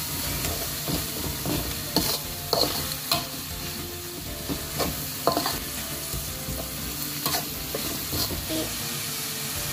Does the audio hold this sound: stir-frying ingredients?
yes